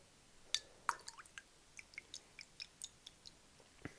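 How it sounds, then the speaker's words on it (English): A wet shaving brush is shaken over a bowl, throwing off a quick series of faint, close dripping and flicking taps in an irregular rhythm, in a quiet setting with no talking. "Just shake off the excess water."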